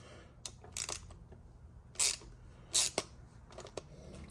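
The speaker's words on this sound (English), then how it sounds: "my new one came with a 9/32 size fucking socket. So let's go ahead and put that on here and take these 4 bolts out" A 9/32 socket working bolts off a rear barn-door lock actuator on a 1997 Suburban: sparse, close metallic clicks and ratcheting bursts separated by quiet gaps.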